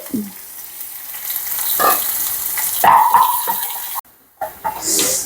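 Mustard seeds temper in hot oil, sizzling and crackling with sharp popping bursts, close by, with a brief near-silent gap before the frying noise returns.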